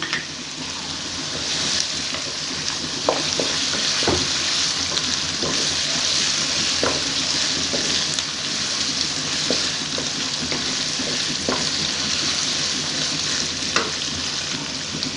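Steady frying sizzle of garlic and ginger sautéing in a hot pan, with occasional clinks and stirring scrapes, no voices.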